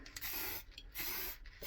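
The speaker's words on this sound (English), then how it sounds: "We've got our spray" An aerosol can sprays onto a resin-inlaid wooden wall plaque in short hissing bursts with brief gaps between them, close but fairly quiet.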